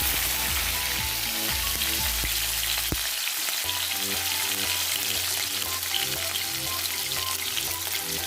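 Chopped onions and garlic sizzle and crackle steadily in a hot pan of oil, with a brief clatter of stirring partway through.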